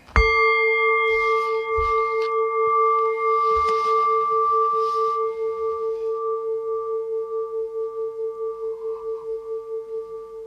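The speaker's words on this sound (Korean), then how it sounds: "오늘도 역시 종소리와 함께 출발해 보도록 하죠." A single struck meditation bell opens a tarot fortune-telling session, ringing out with a clear tone that sustains for about ten seconds, slowly pulsing and fading, with faint faraway noises in the first half.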